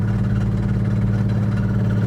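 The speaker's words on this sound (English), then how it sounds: "Major engine failure." A blown-up car engine in major failure drones with a loud, steady, low rumbling hum and no clear revving, alone and close.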